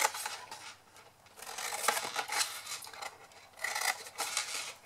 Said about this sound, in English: we're going to go on this section we haven't scored the diagonals on, and we're just going to cut up each one